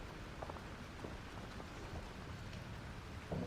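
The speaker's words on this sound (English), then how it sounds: "I don't think the storm is getting smaller." Steady storm rain in the video game Life is Strange Remastered, a dense continuous hiss of falling water with scattered drop patter, even and loud throughout with no talk.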